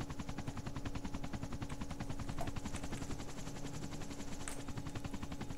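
Rapid bursts of gunfire in the video game DayZ hit a flying helicopter, the rhythmic shots and impacts layered over the helicopter's constant rotor drone.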